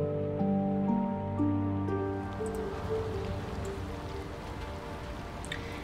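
Steady rain in the video game Nancy Drew: Midnight in Salem, a soft continuous patter under sustained musical tones that fade after the first couple of seconds, leaving the rain alone.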